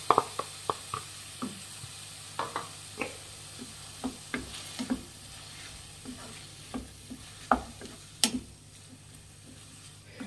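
Tomatoes for tomato gojju cook in a pan under a soft, steady sizzle, with a series of sharp spatula taps and scrapes against the pan throughout. No one speaks.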